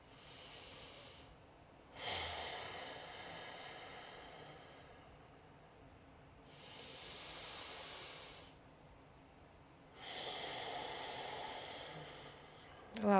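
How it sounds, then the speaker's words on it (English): Slow, deep breaths taken close by in a meditation setting: three long airy inhale-exhale swells separated by quiet gaps. "So I'm going to take a deep breath first."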